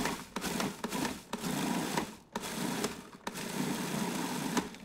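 A food processor pulses sun-dried tomato pesto with olive oil and salt. Short whirring bursts sound close up, broken by brief pauses, and no one speaks.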